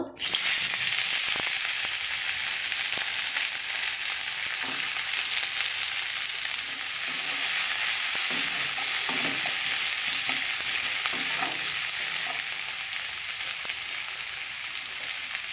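Onions frying hard in oil in a pan just used to fry tengra fish, a loud, steady sizzle with occasional stirring scrapes, no talk.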